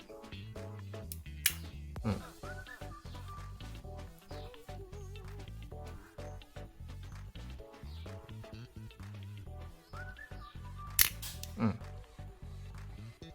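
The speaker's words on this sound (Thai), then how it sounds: "จะเทสกลไกกระจกให้ดู ขึ้นชัตเตอร์แล้วกดปุ๊บ" A Miranda SLR camera's mirror mechanism and shutter fire in two sharp, brief bursts of mechanical clicks, well apart, over a steady tonal background.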